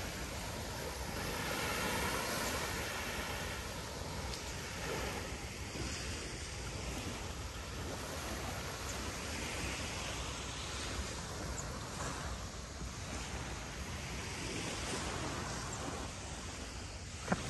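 Sea waves wash onto the beach at a Phu Quoc resort in Ong Lang, a soft, faint and steady surf hiss mixed with light wind noise, heard alone with no talk.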